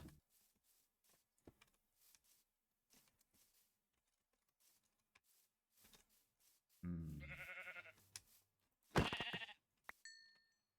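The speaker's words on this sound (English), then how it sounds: "I did hear that sheep." A sheep bleats in the video game Minecraft modpack Divine Journey 2, two short wavering game bleats amid soft clicks and light tapping, fairly close and clear.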